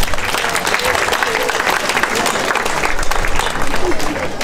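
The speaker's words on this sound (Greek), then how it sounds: "θέλω ένα πολύ μεγάλο χειροκρότημα" A crowd at a charity association's 40th anniversary event applauds loudly and steadily, dense clapping filling the hall with a murmur of voices mixed in.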